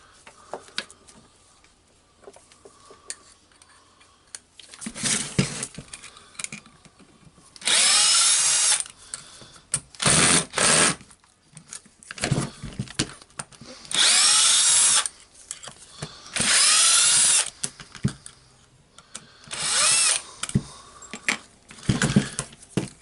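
A power drill driver whirs in loud, close bursts while backing screws out of the housing of a Milwaukee HD18HIW 1/2-inch impact wrench, with several separate runs broken by quieter handling clicks and taps.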